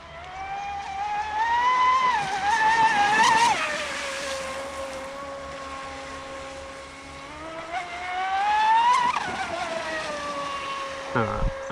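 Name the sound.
RC boat motor running on water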